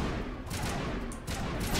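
Gunfire in the video game Mass Effect: a few bursts of shots crackle through a dense, noisy game soundscape, short sharp volleys at moderate level with no voices.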